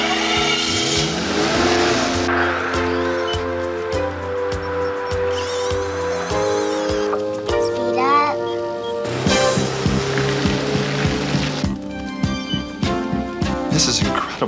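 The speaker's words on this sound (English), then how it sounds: "Start the engine." A car engine starts and revs hard in a series of rising and falling roars, with tire squeal, close and loud over layered music and effects, without clear talk.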